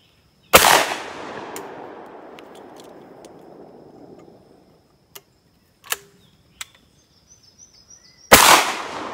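A 16 gauge shotgun fires outdoors in two loud, close blasts several seconds apart, the first trailing off in a long rolling echo, with faint clicks of the action in between.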